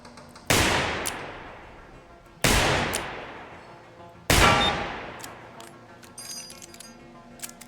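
Three loud, sharp gunshots in the shooter Receiver 2, spaced a couple of seconds apart, each ringing out in a long decaying echo, followed by faint metallic clinks.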